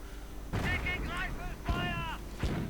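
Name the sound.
mortar and machine gun fire in a WWII video game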